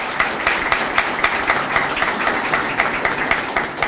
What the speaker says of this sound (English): So again, let's give Mary Lou a round of applause.